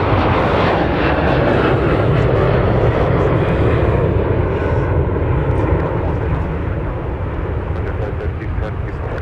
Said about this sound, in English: Delta 1026 getting airborne for Atlanta with an A321